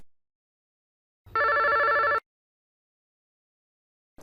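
A telephone rings once in a single steady ring of about a second during an outgoing call to a chairman. Silence surrounds it and there is no talk.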